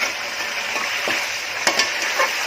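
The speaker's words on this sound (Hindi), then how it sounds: "अब इसको फास्ट गैस पे फ्राई करके लूंगी" Chicken pieces frying over a high gas flame for chicken malai handi, a dense bright sizzle heard up close, with a couple of sharp spatula scrapes and pops near the end.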